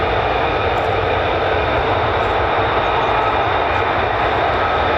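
An F-35A fighter jet flies near the 48th Fighter Wing base at RAF Lakenheath, a loud, continuous broadband engine roar that fills the whole stretch steadily without pause.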